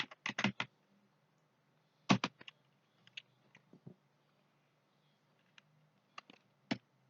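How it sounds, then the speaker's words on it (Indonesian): Computer keyboard keys are tapped in quick, close clusters of keystrokes, with scattered single taps between them while commands are entered, set against a quiet room with a faint low hum. "lalu kita ketikkan perintah IP versi 6"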